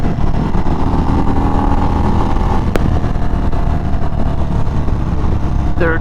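A 2023 Indian Springfield Darkhorse motorcycle accelerates through the gears with a loud, continuous engine roar heard up close, mixed with heavy wind rush and no clear break between shifts.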